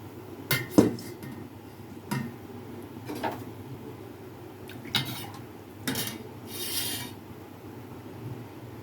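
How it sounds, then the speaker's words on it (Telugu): Hot tempering poured into a pot of rasam, with several separate metallic clinks and scrapes of a utensil against the pot, spread out and fairly close, with no talking. "ఇప్పుడు ఈ తాలింపు వేసింది దీంట్లో వేసేసుకుంటున్నాను."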